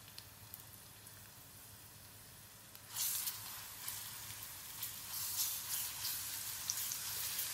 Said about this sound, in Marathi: मी हा लसूण आणि मिरचीचा ठेचा टाकते।